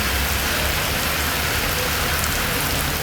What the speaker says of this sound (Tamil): காட்பாடி, பாகாயம், தொரப்பாடி, சத்துவாச்சாரி, லத்தேரி உள்ளிட்ட பகுதிகளில் பரவலாக மழை பெய்தது.